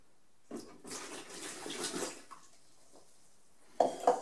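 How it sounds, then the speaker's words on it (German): Water splashes and runs while a measuring cylinder and beaker are rinsed during C-41 film developing. Close-up splashing comes in irregular bursts, with brief pauses and a couple of sharp glassy clinks at the end. "Während dieser Zeit reinigen wir uns schon unser Messzylinder, unseren Messbecher mit Wasser."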